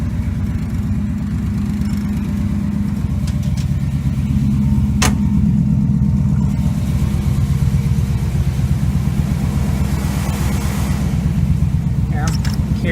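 Vortec engine in a 1968 GMC C10 idling steadily after a cold start, a loud continuous low rumble held for the whole stretch with a few brief clicks and light revving.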